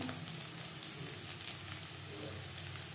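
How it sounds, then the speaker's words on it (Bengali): Onions sizzle steadily as they fry to a reddish brown in a pan for an aubergine and fish roe curry, a soft continuous crackle with no talk over it. "পেঁয়াজ লালচে করে ভেজে নেব"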